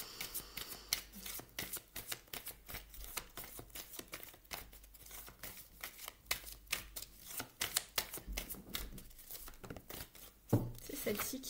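Tarot cards from several decks are shuffled and handled, making a dense, close run of quick riffling and flicking snaps that continues throughout, with a soft voice speaking underneath.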